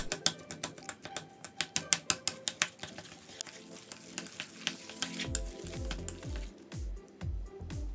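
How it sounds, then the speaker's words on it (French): Chopsticks mixing a moist Chinese ravioli filling seasoned with soy sauce, giving rapid, close, rhythmic clicking and tapping against the bowl, then a run of softer, squelchy stirring strokes. "on va mélanger le tout avec nos baguettes"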